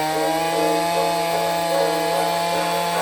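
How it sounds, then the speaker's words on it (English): Two-stroke chainsaw held at wide open throttle, a steady loud sustained buzzing whine at close range, cutting into a fallen tree, with no talk. "Nothing better than the sound of a two-stroke at wide open throttle."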